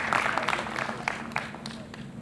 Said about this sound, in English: I think he deserves a round of applause for making it here